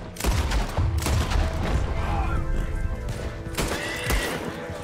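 Gunfire in the video game Red Dead Redemption 2, a loud fusillade of sharp shots in bursts over a continuous noisy scene, with horses whinnying and faint game sounds around.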